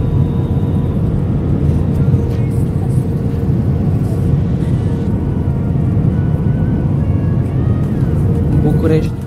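Inside a passenger airplane cabin during the descent before landing, a loud, steady roar and low rumble of the engines and airflow fills the clip without a break, with muffled voices faintly underneath.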